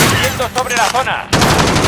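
Loud Call of Duty gunfire that is continuous at the start, breaks briefly for a wavering vocal-like sound, then returns as a thick, steady barrage.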